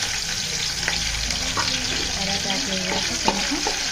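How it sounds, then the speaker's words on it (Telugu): Curry leaves fry in hot oil in a large pan, giving a steady, close crackling sizzle throughout, with a few brief stirring scrapes and light pops and no talking. "పెద్ద బాండీలో ఆయిల్ వేసుకుని కరివేపాకు వేసుకుని"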